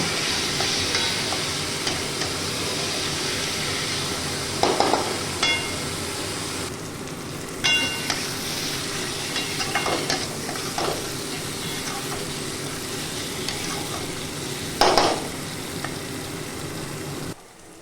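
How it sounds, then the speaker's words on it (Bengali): Masoor lentils fry with a little spice in a pan, a steady close sizzle with periodic scraping stirs and a few louder clatters of a spoon against the pan. "একটুখানি মশলার সাথে মুসুর ডালটাকে একটু ভেজে নেবো এক মিনিট মতো"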